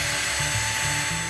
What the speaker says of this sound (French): En quelques coups de perceuse, naissent de ces débris des poissons et autres oiseaux marins